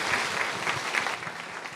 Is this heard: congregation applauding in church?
yes